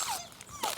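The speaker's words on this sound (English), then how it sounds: "Oh, how cute is this dog?" A dog on a forest walk gives two short, high, thin whimpers close by, each rising and falling quickly, with quiet outdoor background between them.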